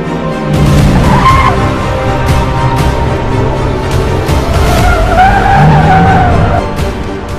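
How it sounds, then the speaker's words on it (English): Loud tire squeal and screeching from the La Voiture Noire, an $18.9 million supercar with an 8-liter quad-turbo sixteen-cylinder engine, carrying a skidding, racing edge throughout with shifting tones. "Sixteen-cylinder engine."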